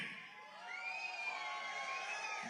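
Indian community audience at an event in Nigeria cheering and whooping, a crowd roar with rising shouts, moderately loud and continuous, no clear clapping.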